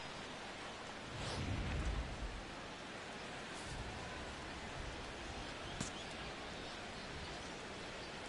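Rainfall in the baseball video game MLB The Show 16 forms a steady, even hiss, with a brief swell of low rumble early on and no voices.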